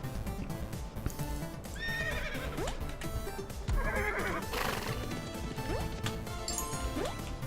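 A horse in the video game Potato Dungeon neighs and whinnies several times over steady clip-clopping hooves and busy game sounds, with occasional crashes and thwacks mixed in.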